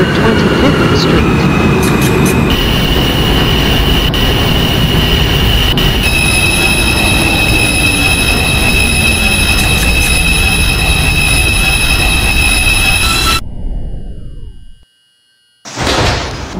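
A simulated R142 subway train on the 2 line rumbles steadily along the rails near 225th Street in the OpenBVE game, with high whining tones and squeals above the roar, then drops away briefly before the noise returns.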